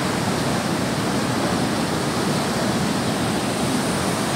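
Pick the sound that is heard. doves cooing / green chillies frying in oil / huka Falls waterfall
huka Falls waterfall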